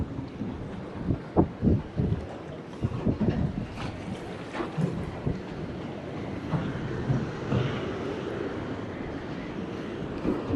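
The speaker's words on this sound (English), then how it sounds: "This wind's really playing havoc with it." Wind gusts buffet a small fishing boat out on open water, a steady broadband rush with irregular louder thumps and flutters, fairly close and continuous throughout, with no talking.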